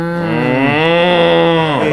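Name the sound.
person imitating a cow mooing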